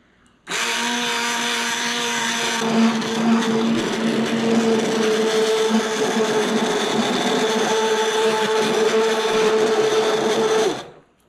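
A blender runs steadily to mix applesauce with blueberries, a loud, continuous motor whine that starts abruptly, holds nearly unchanged for about ten seconds with a slight shift in pitch partway, then cuts off.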